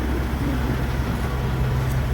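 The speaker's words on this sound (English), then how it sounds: "he started his truck back up" A heavy semi truck diesel engine idles close by, a loud steady low rumble with a throbbing pulse and no voices.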